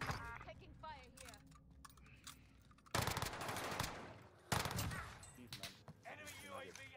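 Rapid automatic gunfire in the Warzone video game crackles in dense bursts, joined by sharp single shots and clicking, with game voices and player chatter running over the top.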